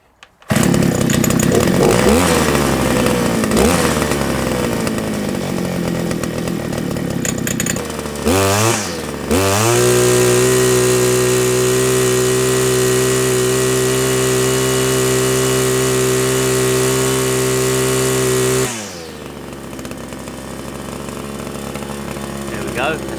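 A small engine in a summer project idles while warming up: a loud rev-up and a sputtering dip first, then a steady, buzzy tick-over hum close by that drops in level near the end.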